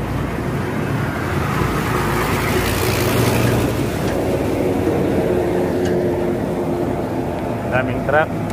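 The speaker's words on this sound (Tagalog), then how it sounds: "Daming truck" Trucks rumbling past on a provincial road in Infanta during a solo ride, a steady heavy roar of engines and tire noise filling the scene, loud and continuous with a brief horn-like tone near the end.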